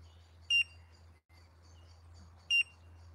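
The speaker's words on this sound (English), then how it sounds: "It's literally two beeps up, two beeps down." An electronic carp-fishing bite alarm gives two short, high, isolated beeps about two seconds apart over a quiet lakeside background with a low hum.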